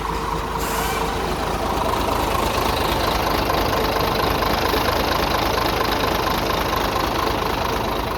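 A 2011 Hino FM 320 6x4 truck engine idles with a steady, loud diesel rumble and clatter that continues unbroken and close by throughout.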